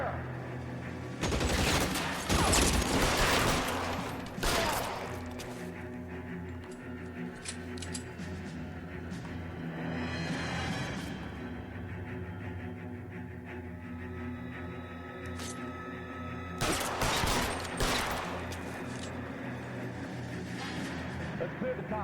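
Gunfire bursts in the game L.A. Noire, loud rapid volleys at the start and again near the end, with quieter shooting and game noise between, and voices talking at times.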